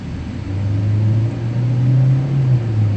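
A VinFast Fadil with a 1.4 engine accelerating from inside the cabin, a low engine drone rising and holding steady over three seconds, no voices.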